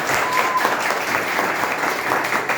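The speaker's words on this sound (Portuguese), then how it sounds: "merece uma salva de palmas" An audience claps steadily and loudly at an indoor Christmas musical event, a dense continuous round of applause with no voices heard above it.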